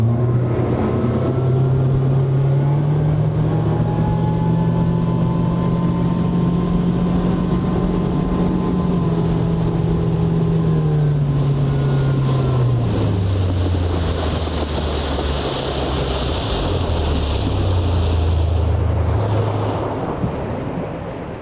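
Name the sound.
boat moving across water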